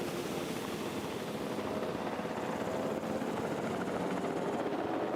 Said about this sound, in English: I get the helicopter to come back.